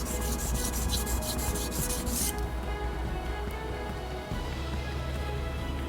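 A single-bevel Yanagiba sashimi knife drawn across a whetstone, rhythmic close gritty rubbing strokes that are brighter at first, then a quieter steady scrape with a low background hum.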